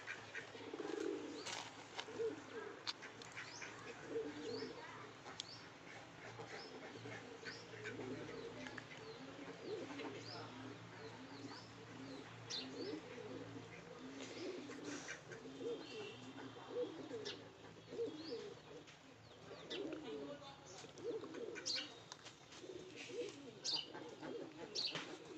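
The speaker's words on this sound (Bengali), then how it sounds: "এখানে সব পায়রাগুলো ডাকাডাকি করছে।" Pigeons in a loft coo and call continuously while feeding, a dense chorus of overlapping calls with occasional chirps and wing flaps close by.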